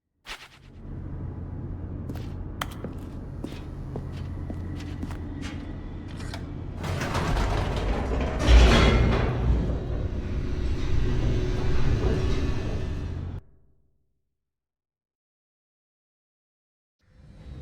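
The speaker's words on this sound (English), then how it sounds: "The elevator raced downward, plummeting towards an unknown fate." An elevator in the video game The Stanley Parable descends with a steady mechanical rumble and scattered early clanks. It swells into a louder grinding roar midway, then cuts off abruptly into silence.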